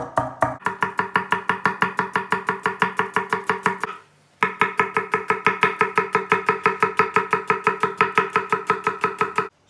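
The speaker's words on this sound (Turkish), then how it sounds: "soğanlarımızı bir sote doğrayalım" A knife chops onions rapidly and steadily on a board, dozens of even strokes with a brief pause partway through, close and clear.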